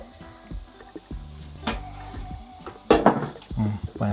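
Basket of a Philips Airfryer XL pulled out after cooking: sharp metallic clicks and knocks of the basket sliding free, with a brief rattling scrape near the end, close and moderately loud.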